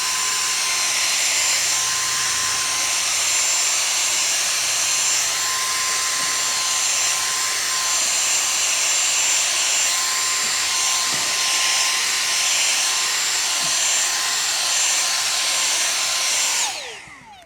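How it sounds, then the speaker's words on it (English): A vacuum cleaner with a small brush attachment runs close and loud while cleaning the fins of an RV air conditioner, a steady high whine with light scraping for most of the stretch before it cuts off abruptly at the end. "I'm going to use this vacuum that has a little brush attachment to try to get a lot of that dirt off"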